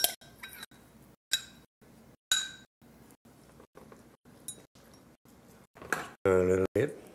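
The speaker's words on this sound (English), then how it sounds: "Put them dill pickle in there. Come on out of there now." Chopped dill pickle is scooped into a bowl of elbow macaroni salad, producing scattered clinks and taps of a utensil against the dish, with a few louder knocks near the end.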